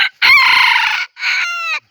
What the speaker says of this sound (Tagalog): tumilaok na si Tris.